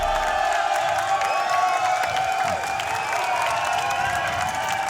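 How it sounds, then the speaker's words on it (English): A stadium crowd cheers for MIBR at a BLAST Premier London esports match, a dense continuous roar with whoops and shouts rising over it, loud and sustained. "The MIBR cheering crowd audience right here."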